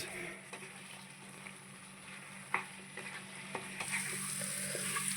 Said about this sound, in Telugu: మసాలా పౌడర్ చేసుకున్నాం కదా అదైతే వేసుకుందాము కలిపేసుకుందాం